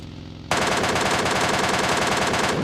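MK machine gun in the mobile shooter game PUBG Mobile Lite fires a loud, continuous rapid burst of gunfire that starts abruptly and runs steadily to the end.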